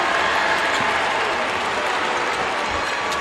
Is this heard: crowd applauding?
yes